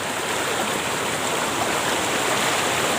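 Fast-flowing, shallow, knee-deep stream running over stones, a loud continuous rushing wash of water, steady and close throughout with no voices.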